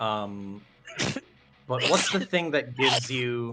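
A single sharp sneeze bursts out during a tabletop role-playing game session, close and loud, set between stretches of conversation as several people talk around it.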